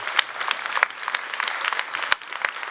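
An audience claps together, a dense crackle of many hands at moderate loudness, with sharper individual claps standing out across the short burst.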